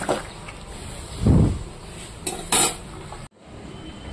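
Mutton curry with garam masala being stirred in a pot, a spoon scraping and knocking against the metal with a couple of brief clanks, then a sudden cutoff and quiet.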